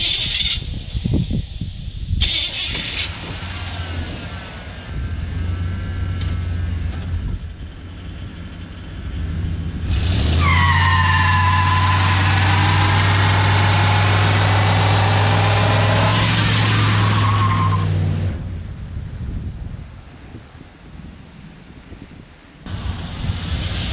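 An old, high-mileage truck bought cheap is driven hard, its engine droning loudly and surging into a sustained high rev with rising and falling whine, then easing back down to a lower rumble, with no voices.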